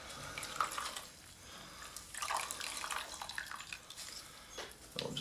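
Water drips and trickles from wet sphagnum moss as it is wrung out by hand, soft irregular splashes and runs, fairly quiet and close, with no talking.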